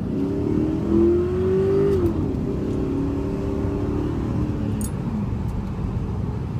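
A Ford Mustang under full throttle on a highway, its engine droning loudly and steadily with a rising then settling tone over road and wind noise, no speech.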